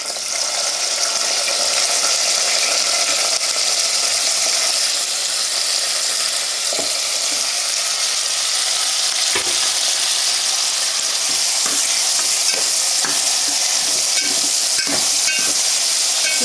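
Green chillies fry with a steady, loud sizzle in a pan for a gongura meal maker curry, with scattered scraping clicks from stirring throughout and no voices.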